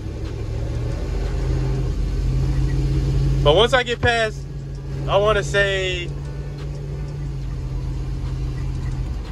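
A mobile detailing van with a failing transmission drives steadily, giving off a constant low engine drone and road rumble. Someone speaks over it for a few seconds in the middle.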